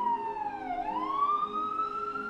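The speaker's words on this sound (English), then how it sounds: "New York City sirens" A New York City police or emergency siren wails loud and steady, its pitch dipping once then rising into a long sustained tone, with faint road noise beneath.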